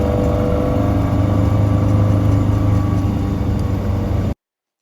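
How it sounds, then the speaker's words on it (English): A Series MM Morris Minor engine runs hard at full pelt on an A-road, a loud, steady mechanical drone with rumbling low tones that holds for several seconds and then cuts off abruptly. "there's nothing quite like listening to an engine running when it's at full pelt"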